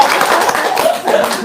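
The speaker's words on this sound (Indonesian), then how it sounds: "Tepuk tangan dong." An audience bursts into dense, rapid clapping at a lively comedy-style gathering, loud and close, lasting only a moment with a hint of laughter mixed in.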